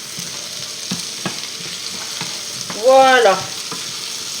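Potatoes frying in a hot pan as they are browned to go with tournedos, giving a steady close sizzle throughout, with a brief word spoken over it and a short tonal squeal near the end.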